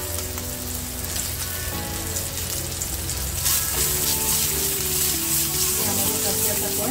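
Asafoetida sizzles in hot frying oil during a Marathi cooking demonstration, a steady crackling hiss filling the clip and growing brighter and louder about halfway through.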